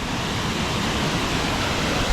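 A dense, constant roar of a rushing waterfall fills the air, loud and steady without a break.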